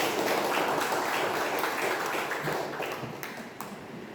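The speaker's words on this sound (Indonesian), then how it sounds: "Ya, tepuk tangan." Classroom applause fills the room, with dense, steady clapping from a group of students that slowly thins and fades toward the end, plus a few scattered final claps.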